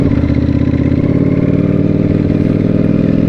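Kawasaki inline-four motorcycle engine running at a steady, loud, close idle, with an even droning hum and a faint mechanical clatter throughout.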